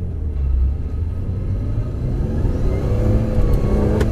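A Mazda RX8 fitted with a Toyota 2JZ-GTE VVT-i engine revs with a loud, deep, close rumble that climbs steadily in pitch over a few seconds.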